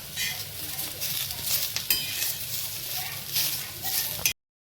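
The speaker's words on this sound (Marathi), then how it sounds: "खिसलेलं खोबरं घालून घेणार आहोत ते देखील लो फ्लेमवर आपण थोडंसं परतवून घेणार आहोत" Steady soft sizzling as grated coconut is sautéed on low flame, with a spatula scraping and stirring in a pan, close and continuous, cutting off abruptly near the end.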